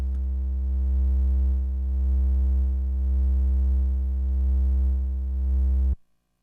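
A Moog Sub 37 synthesizer holds a triangle wave note, a sustained pure low tone with gentle periodic swells in level, which cuts off abruptly near the end.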